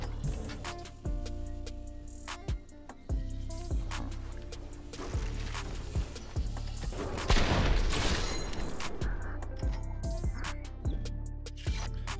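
A building video game is busy with rapid gunfire and sharp repeated shots, mixed with building clatter and impacts throughout, fairly faint and without speech.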